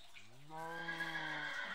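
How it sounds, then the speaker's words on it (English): A Minecraft horse gives a single whinny in a video game, rising and then trailing off over about a second. It sounds moderately near against a quiet background. "What are you doing, horse?"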